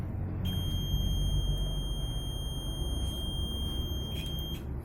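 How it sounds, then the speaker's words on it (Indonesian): A digital multimeter's high-pitched continuity buzzer sounds in a few short beeps over a low background hum, with no speech. "Ini fungsinya buzzer seperti ini, berarti kabel ini dalam keadaan baik."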